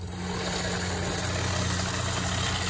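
A DIY electric grass trimmer with a 6374-170KV brushless motor runs steadily while cutting tough, wiry buffalo grass, giving a constant dense whirring drone with a strong low hum, close and loud throughout.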